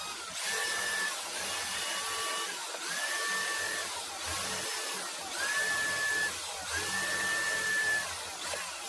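A power drill boring a hole into a metal lathe part, a steady high whine with rising squeals as the bit bites, repeated in several close, even pushes.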